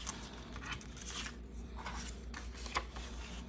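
Scissors snip laminated collage paper close by, several soft, short cuts at irregular intervals over faint background hiss, with no talking.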